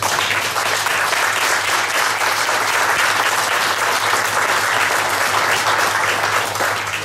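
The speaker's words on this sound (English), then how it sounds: "I would like to applaud all of our employees." Steady, dense audience applause at a groundbreaking ceremony for a Lighthouse for the Blind facility, sustained and even for several seconds with no voices over it.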